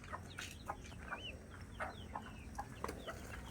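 Several chickens cluck and chirp in short scattered calls over a low steady background hum in a rural province, fairly quiet.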